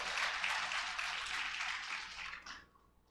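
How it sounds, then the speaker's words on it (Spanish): Applause from a church congregation during a Spanish-language service, a dense wash of clapping that holds steady at moderate level, then thins out and fades over the final half second. "Aplauda a Cristo."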